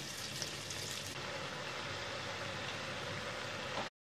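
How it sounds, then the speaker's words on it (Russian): Steady, dense crackling sizzle of donuts frying in hot oil, continuous and fairly close, with no voices. "Таким вот образом продолжаем жарить все остальные пончики."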